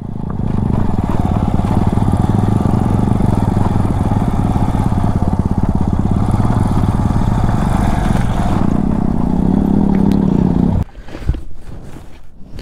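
A motorcycle engine runs loud and steady close by as the bike climbs a slope near a ferry ghat on the Kangsabati River, then cuts off abruptly toward the end, leaving quieter rustling.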